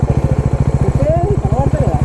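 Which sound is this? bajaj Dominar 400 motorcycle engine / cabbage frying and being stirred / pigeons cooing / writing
bajaj Dominar 400 motorcycle engine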